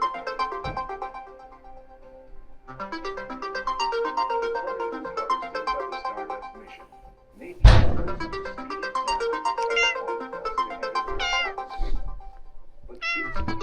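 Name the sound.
cat meowing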